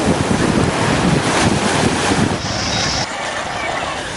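Rough sea on the Batticaloa coast: loud, continuous surf roar mixed with heavy wind buffeting the microphone, rising and easing slightly over a few seconds.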